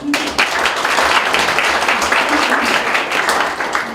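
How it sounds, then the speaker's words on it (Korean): Audience applause fills a taekwondo poomsae team founding ceremony at a Busan high school, a steady crowd clapping sustained and loud throughout with no pause. "박수 한번 쳐주십시오"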